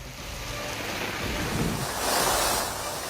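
Heavy rain pours down in Chennai as a dense, steady roar that swells slightly, with no voices over it.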